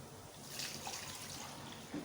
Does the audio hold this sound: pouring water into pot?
yes